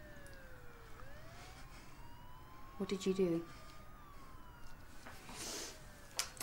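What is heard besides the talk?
ambulance siren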